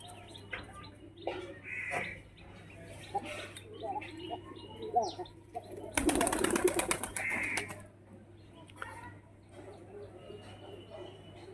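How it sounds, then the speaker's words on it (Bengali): Fancy pigeons coo inside a loft, low repeated throaty calls near and far among other faint chirps, with a burst of flapping wings midway and a person talking at times over a constant low hum. "দেখো কক্কা পায়রা ডাকছে।"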